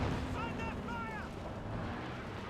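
A Katyusha rocket artillery strike lands in Company of Heroes 2: a continuous, dense roar of rumbling explosions that fills the whole stretch, with a voice talking over it.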